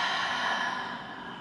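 A deep, long exhale through the mouth during a no-equipment full-body barre workout, a close breathy rush that slowly fades, with no talking.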